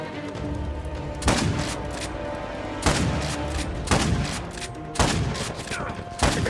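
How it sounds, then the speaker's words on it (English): Bursts of gunfire in the video game Uncharted 4, sharp shots and short volleys recurring every second or so over steady game ambience, with no talk. "Just fire into the bushes."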